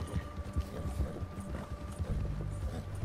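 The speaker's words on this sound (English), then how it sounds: "I've always wanted to like ride a horse." Horse hooves clip-clopping at a steady riding pace in Red Dead Redemption 2, a close rhythmic series of soft thuds over a low background hum, without talk.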